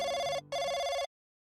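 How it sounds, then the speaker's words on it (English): A telephone bell rings in two loud, close bursts with a brief gap between them, heard during a dinner before going to the mosque, with no voices present. "Her phone rang."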